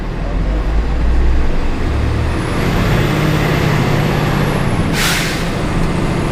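A brand new Autocar garbage truck on the road, with a loud, constant engine and road rumble heard from inside the cab and a short, sharp air hiss burst near the end.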